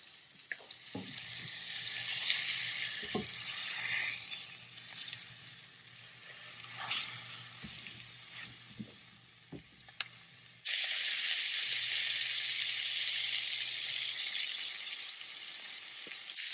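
Food browning to a golden crust in a pan sizzles steadily, with occasional clinks and scrapes of a utensil and a brief break before the frying hiss returns louder.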